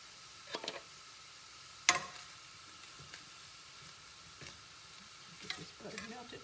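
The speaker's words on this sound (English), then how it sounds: "A little bit of butter just to get these shrimp to going." Shrimp cooking in melted butter in a pan, a quiet, low sizzle broken by a few sharp utensil clicks and scrapes.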